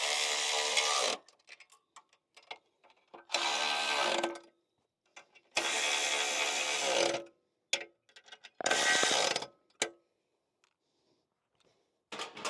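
Repeated ratchet wrench runs tightening washers, spacers and nuts on the frame of a Flyway 4x4 auto clay thrower, four loud bursts separated by quiet gaps with a few light clinks.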